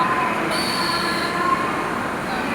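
Steady loud rumble of a train at a clean railway station platform, with faint metallic wheel squeals drifting over the constant roar.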